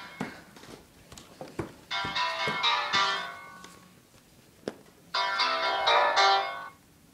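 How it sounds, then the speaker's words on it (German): A telephone rings in two melodic bursts separated by a pause, each preceded by sharp clicks and taps, loud and close. "Und wieder Telefon."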